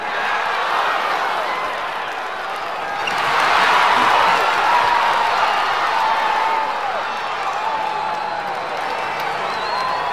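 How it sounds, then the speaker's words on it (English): A large opening-day stadium crowd at an animated car race roars and cheers in a broad, distant wash of noise, swelling in the middle and then settling to a steady murmur. "this is a great opening day crowd"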